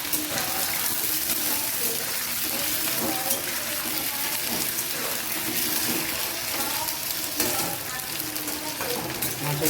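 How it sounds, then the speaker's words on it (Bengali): Potato pieces frying in oil, a steady close sizzle and crackle running throughout with occasional stirring, fairly quiet and uninterrupted. "তেল দিয়ে দিলাম এখন আমি আলুটা ভেজে নেব একটু"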